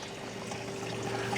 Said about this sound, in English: water just overflows, and warm water comes out of here, and half that cold water is wasted